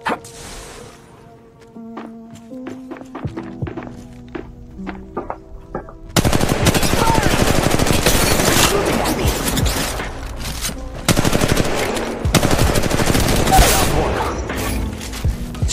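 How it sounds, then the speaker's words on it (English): Sustained automatic gunfire in the mobile battle royale game Apex Legends Mobile, loud dense bursts of rapid shots with crashes, starting after a quieter stretch of melodic game tones and running to the end. "They're shooting at me."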